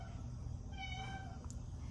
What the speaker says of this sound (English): as you can hear my kitty yelling me in the background.